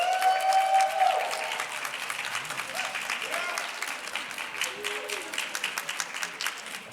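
A graduation audience for an occupational therapy master's program claps in a loud round that starts strong and slowly thins, with some faint background sound ringing through the clapping.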